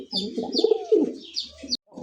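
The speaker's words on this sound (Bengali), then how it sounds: "এই মুহূর্তে দেখতে পাচ্ছেন স্ক্রিনে দুইটা কবুতর, এতটাই বড় সাইজের" Large jet-black pigeons coo in a run of soft, throaty, rolling calls at close range, with a few faint chirps in the background.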